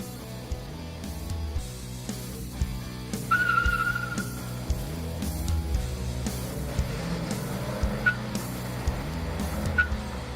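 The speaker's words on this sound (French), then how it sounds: "La Peugeot et la Fiat s'affrontent dans la deuxième course." Small cars racing head to head, a Peugeot against a Fiat, with a low engine drone, a short tire squeal and a few sharp chirps over a moderately faint, continuous rumble.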